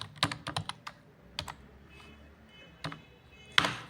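Keys clack on a computer keyboard while HTML code for a web page table is typed, with short uneven bursts of taps and brief pauses, close and fairly quiet, ending in a sharper keystroke.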